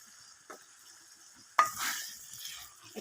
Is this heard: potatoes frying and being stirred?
yes